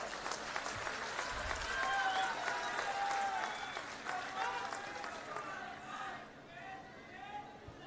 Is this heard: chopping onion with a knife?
no